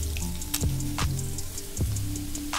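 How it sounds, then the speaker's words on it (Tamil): Chopped onions fry in an oily pan while they are browned for an egg dish, giving a soft, steady sizzle with scattered pops and crackles. A low hum runs underneath and no one speaks. "இப்போ ஆனியனை சேர்த்துட்டு நல்லா பொன்னிறமாக வதக்கி விட்டுக்கோங்க."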